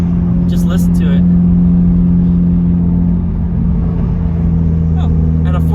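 A Ferrari 458 with a naturally aspirated engine drones loudly and steadily from inside the car, holding a sustained engine tone, with a few brief voices over it.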